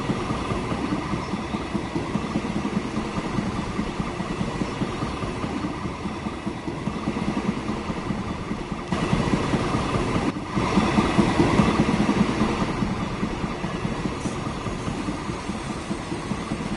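A freight train hauling coal rumbles steadily along the track in Transport Fever 2, a continuous rolling drone with swelling rail noise and no talking.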